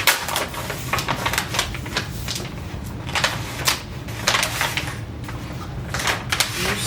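Pages of a thick LEGO Luigi Kart instruction booklet flipped one after another, close papery swishes and rustles with repeated sharper bursts and no talking.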